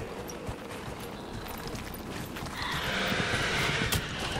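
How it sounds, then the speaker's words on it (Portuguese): A horse mount in the video game Dragon Age: Inquisition whinnies and its hooves clop steadily, loud and continuous with a swelling rush of noise in the second half and no talking. "Ai, fui derrubado o cavalo."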